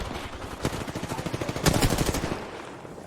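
Rapid automatic gunfire in the Apex Legends battle royale game, a fast stuttering burst of loud shots that swells into a denser volley before cutting off, with no voices.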